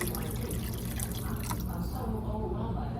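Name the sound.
water being poured into a soup pot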